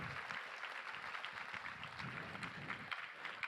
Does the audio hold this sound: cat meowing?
no